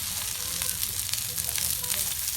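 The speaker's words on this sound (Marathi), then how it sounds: "हे बघा चार चार तळायचे ही चिमकुऱ्याचे पानं" Chamkura taro leaves crackle in oil on a griddle, with a dense, continuous close sizzle and faint stirring textures running steadily throughout.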